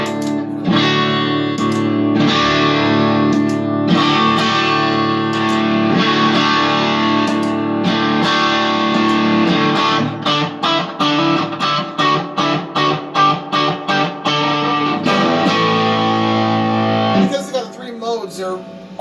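An electric guitar played through a custom LMP Threefold triple overdrive pedal, with sustained distorted chords followed by a run of rhythmic chopped strums, loud and alone.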